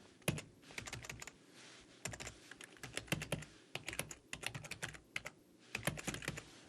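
Quick, irregular bursts of clicky keystrokes come from a computer keyboard as Korean text is typed into software, close and fairly quiet with short pauses between runs.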